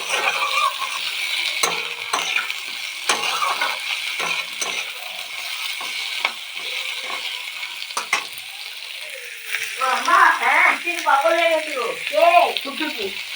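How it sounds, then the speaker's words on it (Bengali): Potatoes fry and get stirred in a pan, a steady sizzle with scraping stir strokes throughout, while a voice speaks over it toward the end. "আলুটা একটু ভাজা ভাজা হবে তারপর ঢাকা দেবো"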